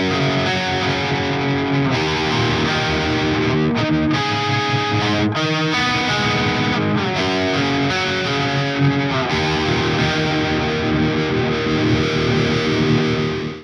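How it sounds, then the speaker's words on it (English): Heavily distorted electric guitar played through a battery-powered modeller with a polyphonic pitch shifter set four semitones down, strummed chords and riffs ringing loud and continuous with brief pauses between phrases. "we're going to add a polyphonic pitch shifting block at the start of the chain, set it down to 4 semitones down"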